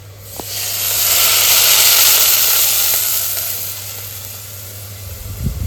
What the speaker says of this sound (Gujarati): હાલો સાસ નાખી દેશું